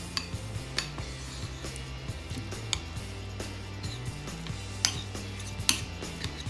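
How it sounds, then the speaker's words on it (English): A metal spoon presses cream cheese into halved bell peppers for keto stuffed peppers. Soft, close clinks and taps of metal against the dish come scattered and faint over a quiet kitchen hum, with no talking. "I'm just gonna use the same spoon that I've been using for the cream cheese, and I'm just gonna push it into the cheese"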